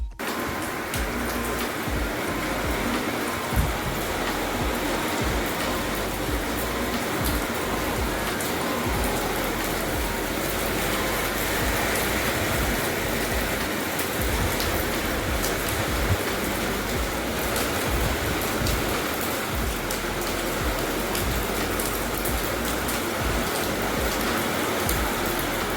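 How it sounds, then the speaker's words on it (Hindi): Heavy monsoon rain, the season's first good downpour, falls on the day of the Jagannath Rath Yatra, a dense, continuous hiss of drops drumming on surfaces, steady and close throughout with no talk. "सीजन की पहली अच्छी वाली बारिश जो कही जाए ना, वो भगवान जगन्नाथ की रथ यात्रा के दिन ही आई है अभी"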